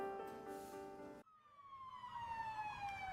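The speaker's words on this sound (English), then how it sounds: "No, I just hate that sound. I've always hated it. Sirens?" Within a mystery visual novel game, a siren plays: a steady multi-tone wail gives way after a sudden cut to a single long descending tone, fairly faint and with no voices.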